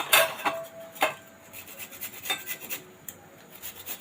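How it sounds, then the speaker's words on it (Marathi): An ingredient for homemade soap is rasped against a grater in a series of uneven scraping strokes, close and moderately quiet, with no talking. "आता मी याला किस करून घेते"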